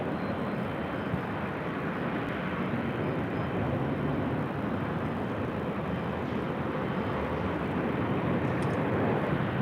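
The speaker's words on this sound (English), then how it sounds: "This is Delta Airlines 831 coming in from Minneapolis on an A321." Delta Airlines Airbus A321 arriving from Minneapolis and landing at LAX, a steady broadband jet roar that holds loud and constant throughout with no voices.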